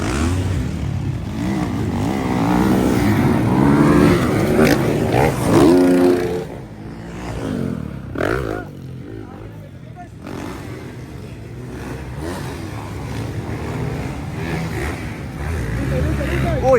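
Honda CRF dirt bike engines rev and whine loudly nearby at a motocross competition, pitch rising and falling as riders pass, with a commentator's voice talking over the noise.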